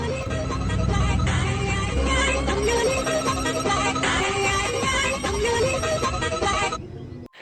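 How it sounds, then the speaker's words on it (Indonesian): A mobile phone left behind rings loudly and continuously, its repeating electronic ringtone melody filling the space and stopping abruptly at the end. "terdengar suara HP yang berdering yang ternyata HP milik Ellie tertinggal di sana"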